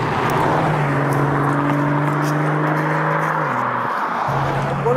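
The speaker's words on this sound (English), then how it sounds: "The Remus exhaust, it just completely brings this car alive." BMW M140i, a 2018 model fitted with a Remus exhaust, gives a loud, steady droning engine note with a clear rising pitch that drops briefly before settling back, heard up close with no talking.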